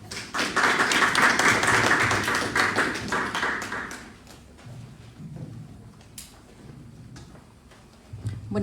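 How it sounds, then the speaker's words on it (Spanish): A conference audience claps loudly for an arriving speaker, a dense burst of applause lasting about four seconds before it thins to a few scattered claps and quiet room noise. "Con fuertes palmas,"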